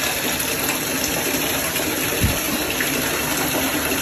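Hot water running from a tap into a bathtub, a steady loud gushing rush that fills the whole clip without a break.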